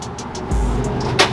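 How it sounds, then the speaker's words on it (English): A Mopar muscle car engine, a Cuda at a car meet, rumbles with a deep low roar that swells briefly, close and loud, with a sharp burst near the end. "Let's see how loud this thing is."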